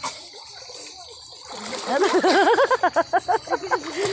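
Children swimming set off a sustained wash of splashing water, heard close by beneath a voice talking and calling out in a lilting tone.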